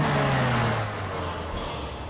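Cars in a movie action scene rev loudly up close and pull away, a heavy engine roar that drops as the vehicles drive off, with no voices over it.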